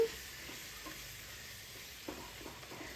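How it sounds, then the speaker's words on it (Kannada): Spice powders, including ground coriander, frying in a pan at home, a quiet steady sizzle with faint stirring scrapes, no voices. "ಸೊ ಅದನ್ನೆಲ್ಲ ಹಾಕಿ ನಾನಿಲ್ಲಿ ಚೆನ್ನಾಗಿ ಫ್ರೈ ಮಾಡ್ಕೋತಾ ಇದ್ದೀನಿ."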